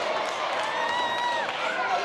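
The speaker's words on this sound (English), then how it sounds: "I don't know how you people can cheer this guy." A wrestling crowd at a UCW-Zero 15th anniversary show cheers and roars steadily, a broad wash of voices and clapping with a few whistles rising through it, while a commentator talks over the noise.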